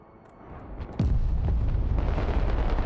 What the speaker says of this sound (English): I think we'll try to place one bomb there and one bomb up there.